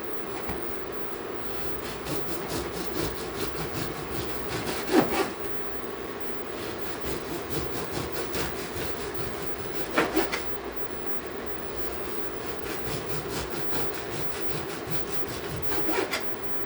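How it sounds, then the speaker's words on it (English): A knife saws through a loaf of bread with steady back-and-forth strokes, a soft rhythmic rasp that repeats throughout, close and fairly quiet, with no talking. "just slice your bread into about 1/2-inch slices"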